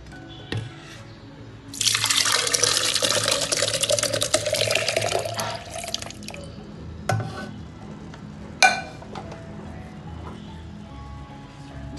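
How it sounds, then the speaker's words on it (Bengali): Milk is poured into a blender, a rushing liquid stream lasting a few seconds that tapers into dribbles, followed by a couple of sharp knocks and clinks, close by. "প্রথমে আমি দুধটাকে ঢেলে নিচ্ছি একটা ব্লেন্ডারের মধ্যে।"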